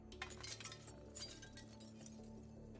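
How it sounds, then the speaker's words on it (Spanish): Broken window glass is cleared out in the Project Zomboid zombie survival game, a quiet cluster of tinkling, clinking shard sounds over a low steady background hum. "voy a tener que limpiar esos cristales. Eso va a llamar zombies abajo"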